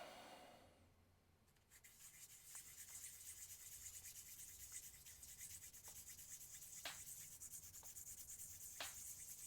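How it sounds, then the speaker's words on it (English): Sanding the bottom of a tabletop miniature's base gives a steady, soft scratchy rub that runs continuously after a short pause, with a few faint clicks scattered through it. It sounds close but quiet. "let's sand the bottom of his base."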